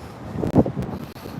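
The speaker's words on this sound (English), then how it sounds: "Oh, now it's getting windy." Gusting wind in Nashville buffets the microphone with a low, rumbling roar that swells and dips over a second and a half, fairly loud and close.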